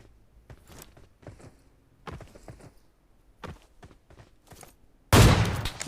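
Shooter video game with scattered soft footsteps and faint clicks, then a sudden loud burst of gunfire erupting close at the end.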